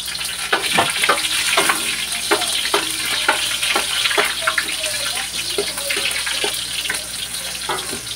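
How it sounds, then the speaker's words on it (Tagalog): Ginger fries in hot oil in a kawali for sinigang na buto-buto, a loud close crackling sizzle with repeated spatula stirs and scrapes throughout. "nagpainit ako ng mantika sa kawali. Unahin ko muna yung luya"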